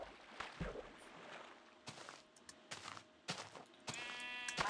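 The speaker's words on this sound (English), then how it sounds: "It's a brown sheep." Minecraft sheep bleating in the game, with a few short bleats and soft footsteps crunching over a quiet background, followed by a denser burst of game sounds near the end.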